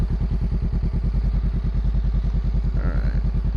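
A Honda Rebel 500 motorcycle with a slip-on exhaust idles close by with a fast, steady, throaty pulse and a slightly raspy exhaust note.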